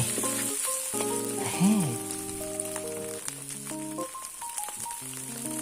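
Two eggs frying in oil in a pan while being cooked for Thai bologna fried rice: a close, steady crackling sizzle throughout, with background music over it and no talking.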